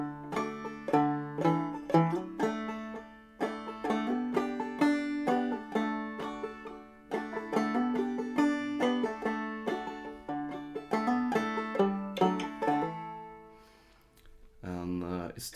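Clawhammer banjo plays the lower part of Big Rock Candy Mountains, a bright plucked melody with a steady rhythmic frailing pattern, close and clear, pausing briefly near the end before a few more notes.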